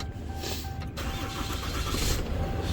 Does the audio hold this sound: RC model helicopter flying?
no